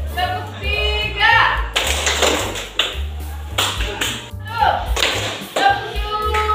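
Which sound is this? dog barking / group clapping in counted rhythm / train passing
group clapping in counted rhythm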